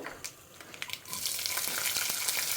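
Mustard seeds and lentils fry in hot oil with a steady close sizzle and scattered sharp pops and crackles, building to a continuous hiss.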